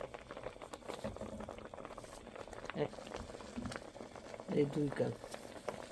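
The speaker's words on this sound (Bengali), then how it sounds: "পেঁপের জুসে বলক চলে এসেছে।" Papaya juice coming to a boil in a pot, a soft continuous bubbling close by at low volume, with a voice speaking briefly over it.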